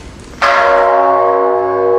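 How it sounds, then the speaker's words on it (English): Large ceremonial bell at a peace ceremony, struck once after a quiet moment and ringing out loud and close with a long, sustained humming decay. "Through cultural exchange and bell-ringing ceremony, people come together to praise love,"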